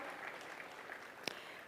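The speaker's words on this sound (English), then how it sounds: "Let's give him a round of applause as well." Applause from an audience at the launch of Kenya's national conversation on its future beyond 2030, heard as a soft, steady wash of distant clapping with one sharper clap standing out.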